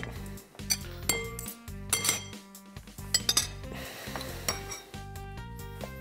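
Dishes clink and rattle repeatedly, a small plate knocking against other tableware with bright, irregular clatters close by, over a steady tonal background.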